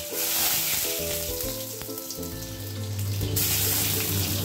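Black cumin seeds dropped into hot mustard oil in a kadai give a loud, close, steady sizzle and crackle, a Bengali spice tempering. A faint tonal hum sits underneath, and no one talks.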